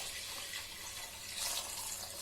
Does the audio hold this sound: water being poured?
yes